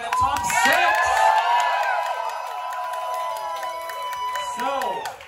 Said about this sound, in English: can I get one final cheer for all your contestants here in the top six?